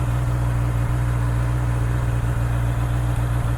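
A Honda motorcycle fitted with the E-Clutch system pulls away without the rider touching the clutch lever, its engine a steady, close, loud low rumble with no talk over it.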